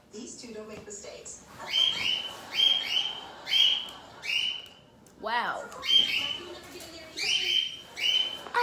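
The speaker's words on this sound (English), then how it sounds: "If y'all hear my birds chirping" Pet birds chirp indoors in a living room, repeated bright whistled calls in a steady rhythm, close and clear, with a short spoken exclamation.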